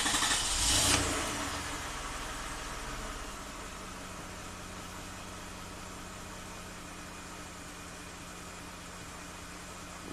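Engine of a 427,000-mile Toyota with a lean fault cranks and catches with a brief loud burst, then settles into a steady, even idle hum that runs alone to the end.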